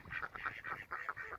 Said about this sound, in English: There are a lot of birds around